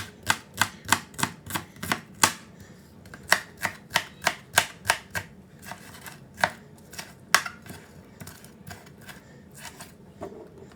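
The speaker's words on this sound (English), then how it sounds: "Now I'm going to use my knife and just cut my spring onions in a few pieces." A knife chops spring onions on a cutting board in a quick run of sharp, regular taps that slow into scattered single cuts, close and clear with no talking.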